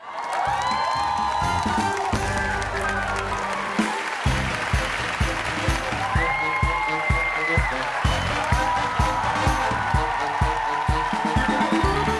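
A studio audience at a Vietnamese comedy game show applauds and cheers, with continuous clapping and whoops over a thumping musical beat that runs throughout.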